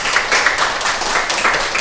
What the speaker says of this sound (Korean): 박수로 환영할까요?